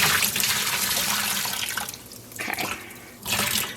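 Tap water runs steadily into a sink while dyed yarn is rinsed, a continuous close splashing hiss that dips briefly and surges again.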